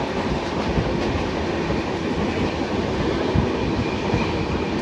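The 12615 Grand Trunk Express rolls steadily along a hill track with a continuous loud rumble and rattle, faint wheel clatter running beneath it, heard from inside the train with no voices.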